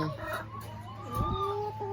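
Laying hens cluck and murmur close by, several overlapping calls over a low steady hum.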